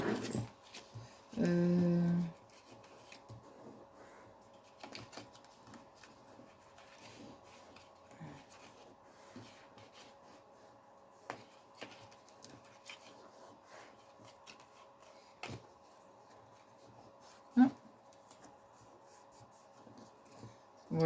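Scraping and rubbing while fold lines are scored into a cardboard advent calendar box, a soft continuous scratchy texture with a louder burst near the start and a few sharp taps later, fairly quiet and close.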